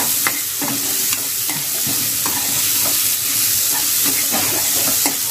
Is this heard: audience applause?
no